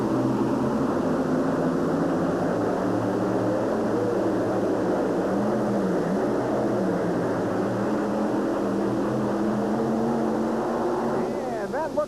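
Several engines on a 7,200-pound multi-engine modified tractor roar together in a steady, loud drone during a pull at a 1992 USHRA event in Oakland, holding an even level throughout.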